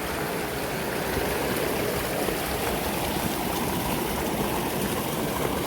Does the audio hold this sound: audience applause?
no